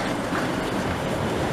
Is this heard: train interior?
yes